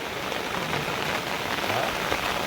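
Steady rain falls in a rural farm setting, a dense, even patter of drops hitting surfaces that holds at the same level throughout.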